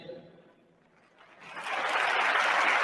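After a brief quiet lull, an audience breaks into applause that swells and continues steadily, a dense crowd clapping.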